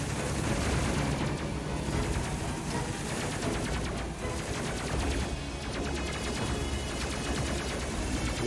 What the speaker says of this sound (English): now we're turned so that way more than one gun can start shooting